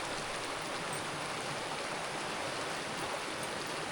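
A mountain creek flowing at Cottonwood Lakes, a continuous broad rushing wash of water, steady and fairly close, with no voices.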